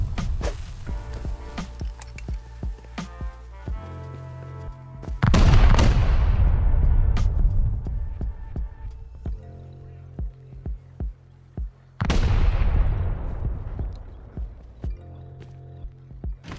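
Satchel charges go off against a base in a survival video game as two heavy booming blasts, loud and close, each fading out slowly. Between them come footsteps and small clattering movement sounds.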